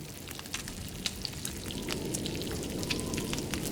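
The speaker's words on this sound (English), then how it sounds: "The sound of sizzling steak." A steak sizzles while it cooks in The Long Dark, a steady crackling hiss with scattered sharp pops, close and even, with no talking.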